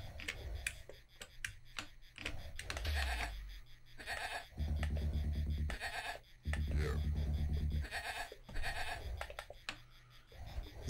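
Sheep bleat in the Amiga strategy game Powermonger, a few wavering calls mixed with game sound effects and a repeating ticking, moderately loud with no speech.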